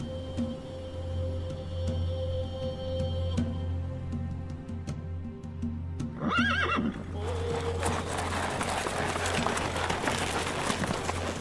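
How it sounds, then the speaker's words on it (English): A horse whinnies loudly, then a rush of hooves and churning noise builds as horses run past through ice and heavy snow in Xinjiang, with a steady low hum underneath. "Horses rushing through ice and heavy snow"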